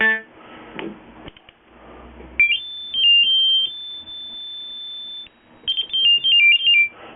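A Minimoog analog synthesizer, just tuned, plays bright sustained tones from its three oscillators, short stepped notes with a long held pitch between, fairly loud and close, with a brief murmur of talk at the start.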